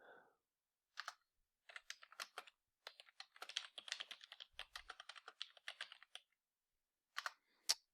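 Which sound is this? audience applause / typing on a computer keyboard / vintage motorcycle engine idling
typing on a computer keyboard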